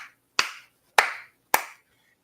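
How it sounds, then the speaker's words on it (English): Three sharp, evenly spaced hand claps ring out close by in a slow, deliberate rhythm, each one followed by a brief decaying echo, with silence between them and no voices. "typically clapping your hands is the"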